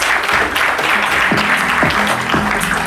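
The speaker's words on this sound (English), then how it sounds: "Big applause." An audience claps steadily for a guest at an international film festival in Hyderabad, with a few tonal swoops and faint voices mixed into the sustained applause.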